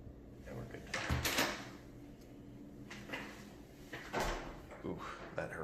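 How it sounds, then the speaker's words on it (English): A restroom door at the Hilton Los Angeles Airport hotel swings and strikes a person, giving a couple of sharp knocks and clacks amid nearby room noise, with people talking around it. "Door hit me pretty hard."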